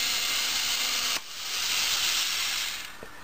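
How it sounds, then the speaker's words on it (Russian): A small homemade drill built from 27-volt aircraft electric motors runs with a bright high-pitched whine and hiss, shifting in tone partway through before easing off near the end, with no talking. "маленькая бормашиночка"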